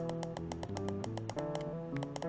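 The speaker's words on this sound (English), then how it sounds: "scroll click" Scroll wheel of a Vaxee NP-01S gaming mouse clicked repeatedly in quick succession, crisp close-up ticks in an even rhythm.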